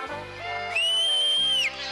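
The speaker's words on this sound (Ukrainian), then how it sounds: "ще я вмію свистіти так само, як він" A person whistles one sustained, clear high note for about a second, preceded and followed by soft background music and tones.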